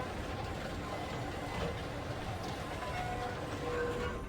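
Underground subway machinery in the adventure game Zork: Grand Inquisitor runs with a steady, dense mechanical rumble and faint grinding, gear-like clicks, continuous and even in level throughout.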